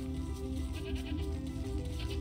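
Repeated goat bleats from the Mr Prepper farm game sound over a continuous low game-audio drone while the goats are being sheared, with no voices here.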